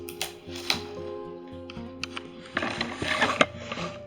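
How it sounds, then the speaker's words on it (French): A dog shreds a sheet of paper close by: rapid, irregular crinkling and tearing, bursts of rustling and ripping that intensify toward the end, with no voices. "mon chien qui déchiquette une feuille à côté de moi"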